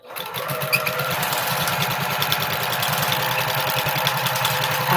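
Sewing machine stitching quilt strip sets together for a postage stamp quilt, a steady rapid mechanical whirring with a pulsing low thump, running continuously and close by with no talking.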